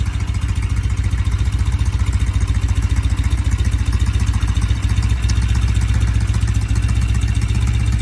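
Norton motorcycle engine running steadily and loud for the whole stretch, a continuous low throbbing rumble with mechanical clatter and no talk over it.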